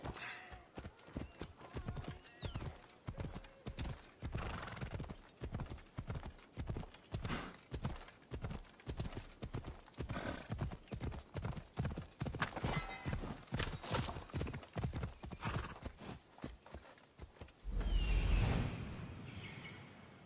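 A horse gallops in Assassin's Creed Odyssey, its hooves pounding in a fast, steady rhythm close by for the whole stretch, with a brief louder rush of movement near the end.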